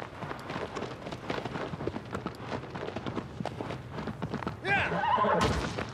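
A horse gallops in Shadow of the Colossus, rhythmic hoofbeats thudding steadily under a person talking, ending with a neigh and a louder rush of movement.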